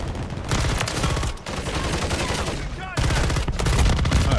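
Rapid automatic gunfire in Call of Duty: Modern Warfare 3, with dense, loud bursts of shots that run almost continuously, broken briefly by short pauses.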